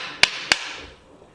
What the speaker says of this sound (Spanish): ahora con un taquito y el martillo, con cuidado, vamos a golpear ahí